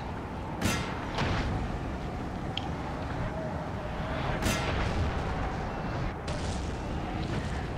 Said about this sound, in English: Let's start targeting our artillery on this guy.